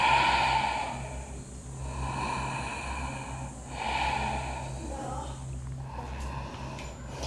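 Slow, deep yoga breathing during a flow session in downward facing dog, with long airy inhales and exhales rising and falling in waves over a steady low hum, close and fairly soft.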